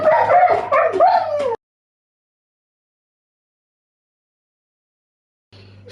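Several dogs bark and yip in a quick, close burst with whiny, high-pitched tones, then fall silent for a few seconds before a brief sound returns at the very end.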